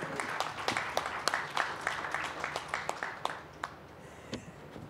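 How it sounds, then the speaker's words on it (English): Audience at a global development dialogue event applauds, the clapping dense at first then thinning into scattered individual claps as it fades out. "And we will applaud."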